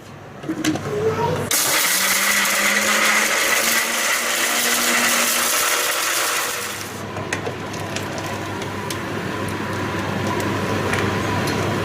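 An electric grinder blends ingredients for Jaffna-style odiyal kool, a loud steady whirring roar for about five seconds, then a softer running hum while the motor keeps turning.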